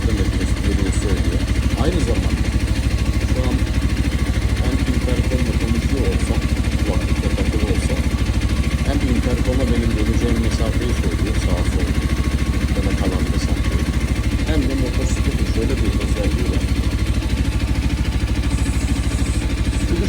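A Voge 250 RR motorcycle runs on the move, its engine a steady low drone with road and wind rumble underneath, while someone talks over it throughout.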